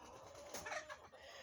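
Chickens gathered around a fall pumpkin, pecking and eating it, with faint, quiet clucks rising briefly in the middle over a soft background hiss.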